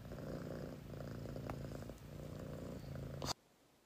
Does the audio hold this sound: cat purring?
yes